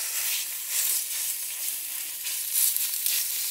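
Minced pork frying in hot neutral oil in a pan over high heat, a steady bright sizzle with slight surges, continuous and close throughout.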